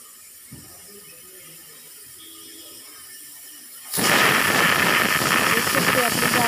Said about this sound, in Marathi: शिट्टी आपली झालेली आहे.